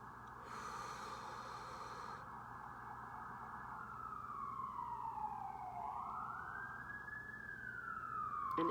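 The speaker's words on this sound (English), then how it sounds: "And isn't it interesting how the sirens are coming?" Emergency vehicle sirens wail faintly in the distance, their tone sweeping down and back up as they draw closer, over a low background hum.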